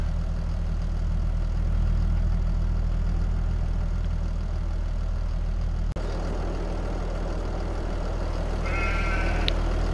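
Sheep bleat on a farm in Farming Simulator 22, brief bleats rising near the end over a steady low engine-like drone that runs the whole time.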